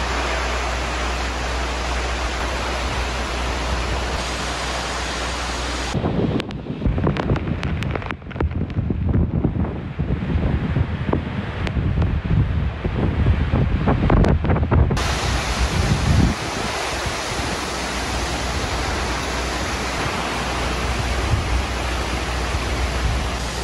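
Strong wind from Super Typhoon Rai (Odette) in the Philippines, a loud continuous roaring rush that swells into harsher buffeting gusts midway with mic-blasting rumble, then settles back to a dense steady roar.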